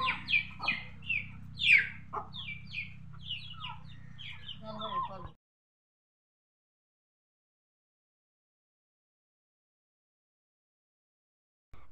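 Hens clucking nearby in a rural yard, a run of repeated clucks and short calls over a low hum for about five seconds, then silence.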